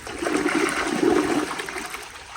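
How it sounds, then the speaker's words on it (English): A 2018 American Standard Townsend Vormax toilet flushes with a strong, close rush of water that holds steady for about a second and a half, then tapers off into a softer trickle. "So enough talking, here is a flush."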